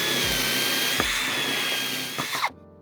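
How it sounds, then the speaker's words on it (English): A power drill whines steadily while boring a counterbore into wood, close and loud, dipping briefly under load before stopping abruptly. "you keep drilling and you drill what's known as a counterbore"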